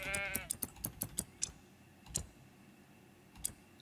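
A sheep bleats in short wavering calls while being sheared in the video game Everdream Valley, followed by a quick series of sharp clicks and a few scattered ticks against a quiet background.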